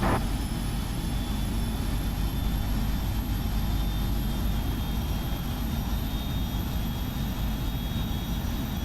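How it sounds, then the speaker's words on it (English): Boeing 777-300ER jet engine spooling up during start in the FSX flight simulator with the PMDG add-on, a loud, steady roar and whine holding evenly throughout with a high tonal hum on top, without speech. "Start left engine. Starter engaged, engine 1."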